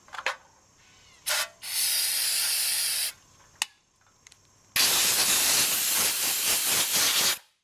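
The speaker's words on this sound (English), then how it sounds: "I wash that stuff off by spraying on some gum out" Gumout carburetor cleaner sprayed onto a Kohler carburetor from a Wheel Horse Model 401 tractor: a couple of short hissing bursts, then a long steady spray, a pause, and a second long sharp aerosol hiss, close and loud.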